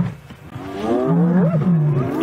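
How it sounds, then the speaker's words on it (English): Lions roaring a challenge at hyenas over a zebra kill in the African savanna, a loud, close, drawn-out roar that swells after a quiet start and holds to the end. "Roaring their challenge at those hyenas."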